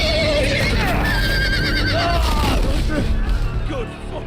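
A horse neighs in Telltale's Game of Thrones game, whinnying calls rising and falling over loud, dense game noise and commotion, with people talking across it.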